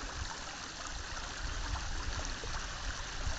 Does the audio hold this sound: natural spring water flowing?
yes